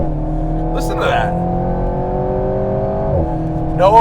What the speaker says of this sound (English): Just nicely tuned French 4-cylinder engine.